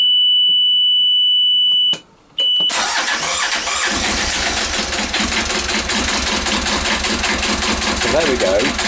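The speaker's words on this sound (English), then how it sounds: "I'm now going to start the engine up again." A Vetus diesel engine on a narrowboat starts after a steady warning beep and a brief pause, then catches and settles into a loud, even, rhythmic idle, close by and running alone.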